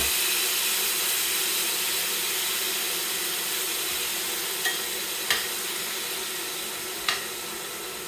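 Thin-sliced steak spread in a flat layer sizzles steadily in a hot pan, with a few faint clicks and taps over the continuous frying hiss.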